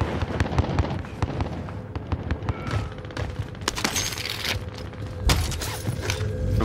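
Rapid gunfire from a multiplayer shooter video game with a buy station and snipers, dense bursts of shots and booms crackling continuously throughout, loud and close with overlapping reports.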